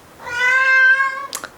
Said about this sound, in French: C'est mon chat Apollo